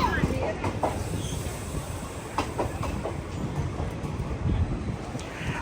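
The Durg–Visakhapatnam Express pulls out of Gajapathinagaram station with a soft, low rumble and scattered clanks and clicks of rolling wheels, fairly faint and steady.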